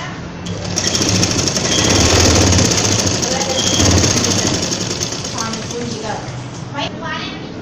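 A sewing machine stitches an elastic strip onto a winter coat, running steadily and loud for most of the stretch and easing toward the end, with some talk over the motor.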